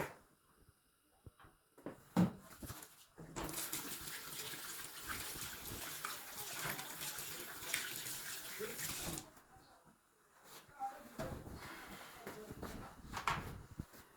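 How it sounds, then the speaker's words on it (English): Water runs from a kitchen tap over hands being washed during food preparation. A steady gush lasts several seconds, framed by quieter clicks and handling sounds before and after. "Now I'll be washing my hands before starting the process."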